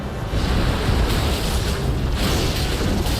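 Explosion ultimate ability blasting in Elden Ring Nightreign during a boss fight with the Centipede Demon, a loud sustained rumbling roar with crackling bursts for the whole stretch.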